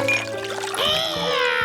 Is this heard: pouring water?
yes